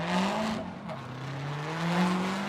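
A Formula Drift Corvette on Falcon tires with a Borla exhaust leaves the start line at Irwindale, its engine howling and climbing in pitch alongside other cars, loud and close with rising revs throughout.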